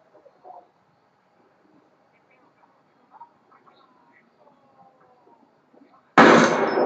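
Mortar fire in the video game Ghost Recon Wildlands: a few faint, scattered pops and rustles give way to one sudden loud explosive blast that sustains at the very end.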